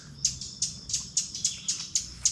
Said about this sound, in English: There are some oven birds and chipmunks here that are not happy that we're here.